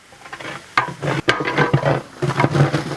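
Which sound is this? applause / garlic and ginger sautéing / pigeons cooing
garlic and ginger sautéing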